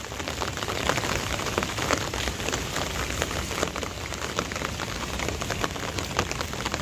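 Light rain falling steadily on surfaces outdoors, a dense, even patter of drops at close range with no voices.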